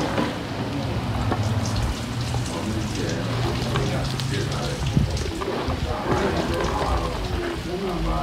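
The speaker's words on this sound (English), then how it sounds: "Now, You add the onions." Onions sizzle steadily in a hot pan of goat meat cooked for asun, a dense even crackle like light rain, with a person speaking over it.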